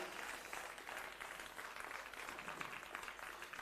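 Steady, dense applause from a church event audience fills the whole stretch, loud and continuous with no voices on top.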